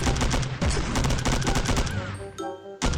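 Rapid bursts of automatic gunfire in the online shooter Milk Choco, loud and dense with overlapping shots, briefly dropping out before a final burst.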